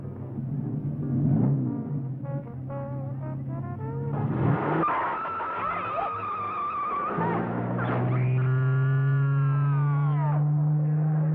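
A car revs and pulls away with a squeal of skidding tires, then the engine roars on in a loud, sustained drone as it drives off, with no talking.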